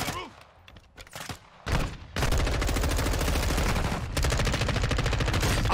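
Rapid automatic gunfire erupts in the Modern Warfare 2 campaign, sustained loud bursts after a quieter opening with scattered shots, dense and close in the mix.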